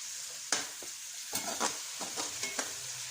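Tomatoes sizzle softly in a pan with a steady frying hiss while a spoon scrapes and stirs in a few brief, close strokes, and no one speaks.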